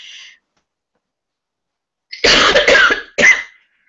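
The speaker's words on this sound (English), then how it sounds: "today I have a little bit of a cold, so I may have to do some coughing" Someone with a cold coughs in a short loud burst of several harsh coughs, then one more cough after a brief pause, close up with no talking.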